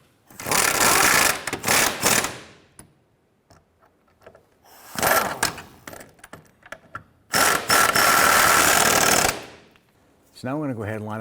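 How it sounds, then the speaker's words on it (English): A ratchet snugs down trailing arm bracket bolts on a Chevrolet Impala in three loud, close bursts of rapid clicking separated by quiet pauses, with a brief tonal sound at the very end. "Now let's go ahead and snug down these bolts."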